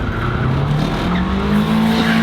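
A Nissan Silvia S15 doing rings, tyres squealing continuously while the engine revs and its pitch rises, loud and close throughout.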